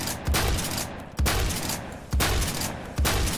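Shotgun fire in Roblox Phantom Forces, four heavy, close blasts spaced about a second apart, each with a sharp attack and a booming low tail.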